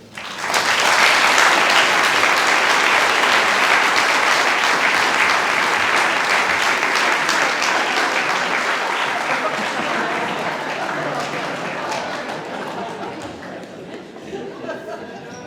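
An award ceremony crowd at the 2020 Prime Minister's Science Prize breaks into dense, steady clapping with faint chatter underneath. The applause stays strong for several seconds, then gradually tapers and fades.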